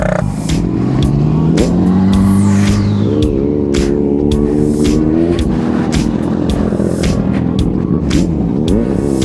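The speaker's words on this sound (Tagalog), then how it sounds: "ZX25R, ang ganda ng tunog. Nag-i-scream kahit sa low RPM lang." A Kawasaki ZX-25R motorcycle engine revs loudly and repeatedly at a circuit, its high-pitched whine rising and falling, with sharp clicks and road noise around it.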